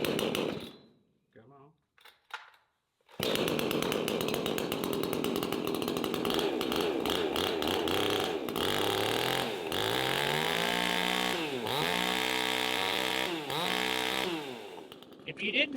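A tuned $250 chainsaw sputters briefly, then catches and runs loud and close, its engine revving up and down in repeated sweeping bursts before dropping back to idle.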